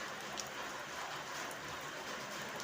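Light rain falls steadily and has kept on since the night before, a soft even patter with scattered drops, heard alone at a moderate distance.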